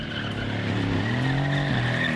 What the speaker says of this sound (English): And great big drifts.